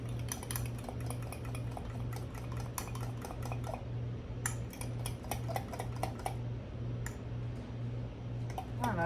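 A spoon stirring milk into keto pumpkin crumb cake batter in a bowl, with continuous quick scraping and clicking strokes over a steady low hum, close and moderately loud.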